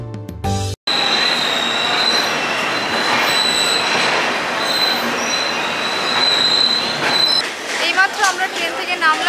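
Saraighat Express pulling into Guwahati station: loud continuous rail roar with high wheel squeal running through, a brief cutoff near the start, then easing into clattering and squeaks as the train slows.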